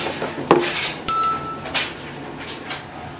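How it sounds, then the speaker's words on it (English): The plastic top of an egg incubator is lifted off, giving a few clinks and knocks, a sharp tap, a brief high ring and soft rattling handling sounds close by. "let me take the top off the incubator quickly"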